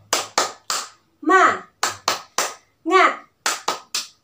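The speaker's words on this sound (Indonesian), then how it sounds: "kita tepuk semangat ya" Children chant the Indonesian 'tepuk semangat' clapping routine before a storytelling session: sharp bursts of unison hand claps in a quick rhythmic pattern, broken twice by short shouted children's chant lines, close and lively.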